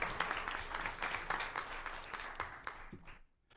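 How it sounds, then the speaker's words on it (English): Audience at a school board meeting applauding a newly named elementary school principal, a dense burst of clapping that thins out and fades to near quiet by the end. "just give her a round of applause"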